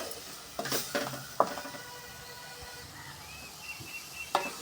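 Onion-tomato masala with chilli and coriander powder being stirred in a pan over a simmer, a quiet sizzle under a few scraping utensil clinks and taps.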